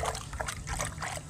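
Water trickles and splashes steadily while a clay pot is washed by hand, a close, continuous patter with small splatters and no talk.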